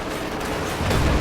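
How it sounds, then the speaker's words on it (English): Dense, rumbling battlefield gunfire and distant explosions from a war strategy video game, an infantry support gun firing amid continuous loud combat noise that swells toward the end. "Infantry support gunshot just misses the blob right there."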